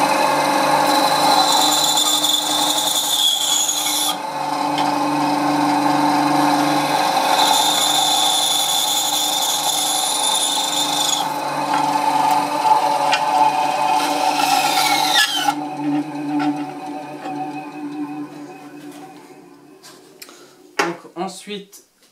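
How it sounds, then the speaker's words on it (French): A band saw hums steadily with a loud tonal whine while cutting wooden pen blanks for turning. The motor winds down near the end, followed by a few light knocks and clatters. "Donc moi je vais faire ça sur une scie à ruban."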